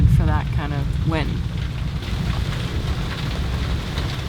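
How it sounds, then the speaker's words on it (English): Rain falling on a sailboat at anchor in gusty wind, a steady patter and hiss with a few brief chirping sounds at the start. "Would be good rain to go into the tank."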